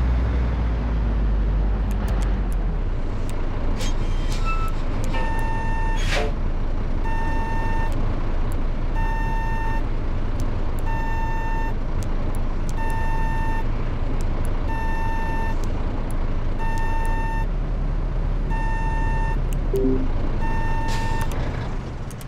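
Reverse alarm of a truck backing into a dealership in Euro Truck Simulator, a steady evenly spaced series of loud electronic beeps over continuous engine rumble and road noise.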